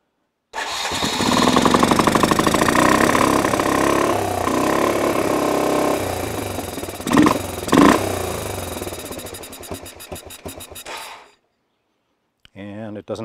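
A 1986 Honda 4x4 ATV engine cranks and catches, running loud and close with a chugging note and a couple of revs, then dies because it will not idle; a voice speaks briefly at the end.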